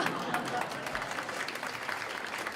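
An audience applauds a Law Day sponsor at a 2022 legal event, a steady wash of clapping that holds at even loudness for the whole stretch with no pauses.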